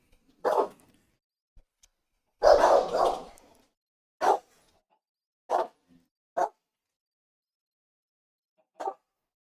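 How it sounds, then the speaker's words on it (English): Two dogs, a Wheaten Terrier and a Wheaten Shih Tzu, bark in short separate bursts, with one longer run of barking near the start and then single barks spaced a second or two apart, fairly close with quiet gaps between. "both my dogs see something outside. Sorry, I know that kind of comes through."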